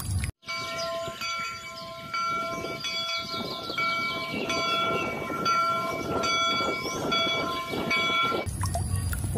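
A toy train runs with a steady mechanical hum, chugging clatter and bright repeated whistle-like electronic tones, loud and close, stopping near the end.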